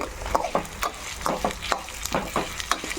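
Garlic and ginger pieces fry in a pan of oil with curry leaves, giving a steady sizzle broken by repeated sharp stirring scrapes at a fairly even rhythm, close up with no talking.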